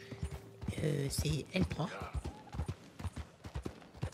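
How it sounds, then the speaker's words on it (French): Horse hooves clip-clopping on a trail in the Red Dead Redemption 2 video game, quick rhythmic thuds at moderate volume under someone speaking. "Faut calmer notre cheval."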